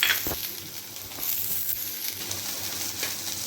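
Broad beans sizzling in hot oil in a pan, a steady crackling hiss with occasional clinks and stirring scrapes, close and fairly loud.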